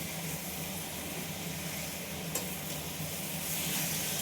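Spicy ivy gourd (kundri) fry sizzles and crackles steadily in a pan, a soft continuous hiss with a faint clink of stirring partway through.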